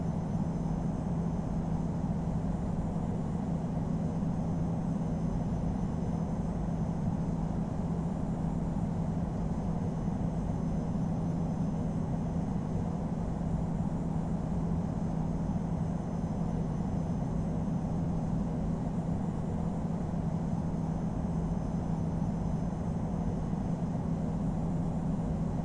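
Steady, loud jet engine roar from a Vietnam Airlines Airbus A321 taking off from runway at London Heathrow in the Infinite Flight simulator, a constant broadband rumble with a low hum, holding level throughout with no voices.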